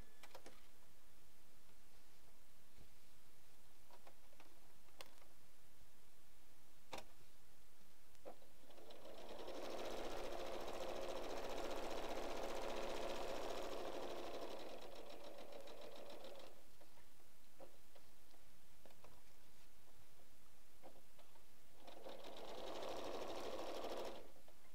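A sewing machine stitches around the corner of a purse made from 8-inch fabric squares, running in two bursts, a long steady whir and a shorter one later, with quiet handling clicks in between.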